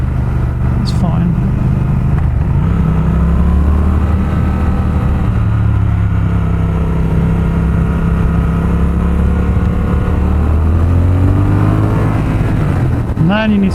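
A Triumph Speed Twin motorcycle engine drones loudly and steadily while riding, pitch rising and falling through the revs with a brief climb near the end, and a rider's voice runs underneath.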